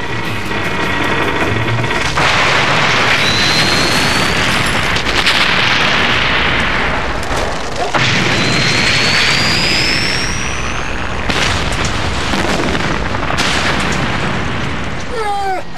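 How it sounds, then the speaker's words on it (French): Cartoon explosion on Everest, a loud dense roar and rumble sustained across the whole stretch with bursts and whooshing sweeps, alone without talk. "Ça va sauter!"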